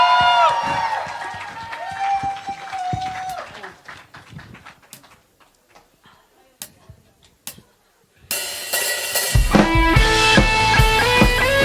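An outdoor Easter worship crowd breaks into loud, sustained applause and cheering for the praise team, rising abruptly after a stretch of singing and scattered sounds and continuing under music until the end.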